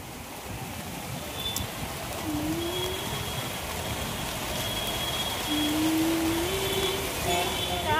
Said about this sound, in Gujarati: બહાર તો વરસાદ ચાલુ થઈ ગયો છે જોરદાર